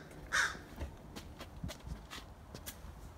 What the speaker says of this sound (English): I love crows, don't you?